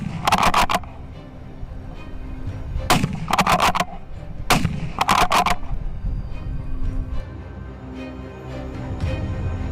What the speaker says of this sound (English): The shot rings out as expected, sending the boars into a panic.